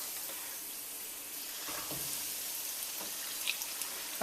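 Chicken pieces fry in hot oil for Korean fried chicken, a soft, steady sizzling hiss with a few faint pops and stirring sounds near the end.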